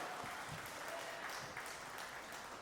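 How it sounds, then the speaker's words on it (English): An audience claps during a wrestling hall of fame induction speech at a WAR Wrestling event, a brief, soft wash of applause heard from a distance. "It's okay to clap."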